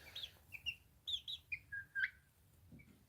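A chicken clucking and chirping in a nest box, a run of short bright calls in quick succession, then quiet, over a low steady background hum.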